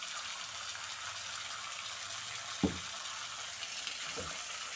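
Spice paste frying with peas in a pan gives a soft, steady sizzle with a couple of sharp clattering knocks as ingredients are added or stirred.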